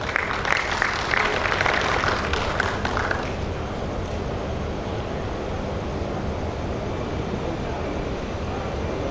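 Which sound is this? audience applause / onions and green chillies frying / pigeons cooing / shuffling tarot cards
audience applause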